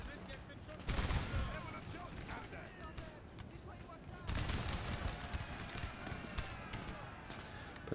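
Gunfire in a battle, with a thick rattle of shots and dense volleys that rise in two heavy surges over a busy background. Voices talk and shout under the shooting.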